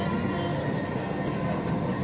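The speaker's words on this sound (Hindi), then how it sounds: "मेट्रो" A Dubai metro train running, heard from on board as a steady, close rumble of wheels on rail with a constant hum and no breaks.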